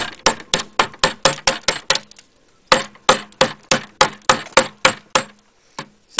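A screwdriver used as a chisel is tapped into a wooden propeller, making a run of crisp, evenly spaced knocks. A short pause splits the run, then the knocks resume and a lone strike comes near the end.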